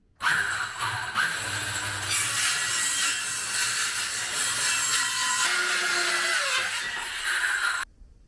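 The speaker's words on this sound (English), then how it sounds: "So I'm going to cut the wood now and then start to glue it up." A power saw cutting plywood for a LEGO room build, one loud, continuous roaring whine that starts abruptly and holds steady for about seven and a half seconds before cutting off.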